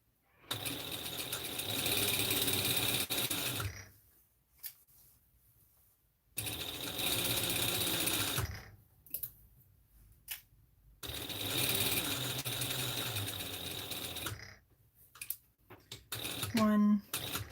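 A sewing machine turned over by hand while sewing a Butterick 4790 pattern whirs and clatters in three long runs, separated by quiet pauses. Short talk and small mechanical ticks come between the runs.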